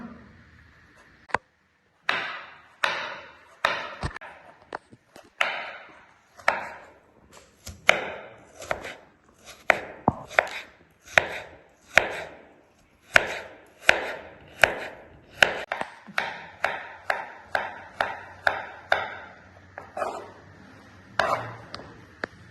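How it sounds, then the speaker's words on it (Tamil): Knife chopping peeled vegetables into small pieces on a board, a long run of close, crisp, sharp chops in uneven bursts, speeding into a fast steady rhythm near the end. "இப்போ நான் வெட்ட போகிறேன் குட்டி குட்டியாக வெட்டிக்கலாம்"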